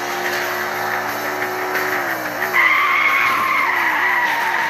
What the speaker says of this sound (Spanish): el freno de emergencia que vamos a hacer ahora